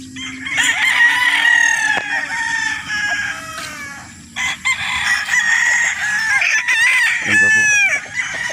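Several roosters crow one after another on a farm in Roxas, loud, close, overlapping calls with clucking between them.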